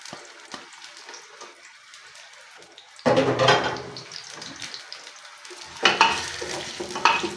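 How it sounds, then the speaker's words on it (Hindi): Finely chopped onions for beef nihari hit hot oil in a pressure cooker pot with a sudden loud sizzle after a quiet stretch, then crackle on with stirring scrapes and a second surge of frying. "प्याज को हम लाइट ब्राउन करेंगे।"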